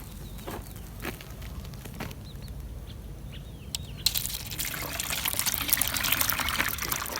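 A liquid chili mixture for an organic caterpillar spray on apple trees is poured and sieved, giving a faint steady trickle that swells into a louder, splashing pour in the second half.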